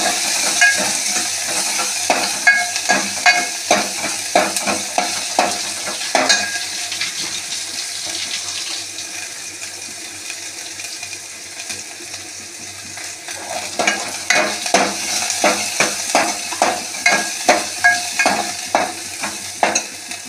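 Chopped onion frying with green moong in a pan, a close sizzle under repeated rhythmic scraping stirs of a spoon against the pan, strokes pausing in the middle before resuming, with no talk.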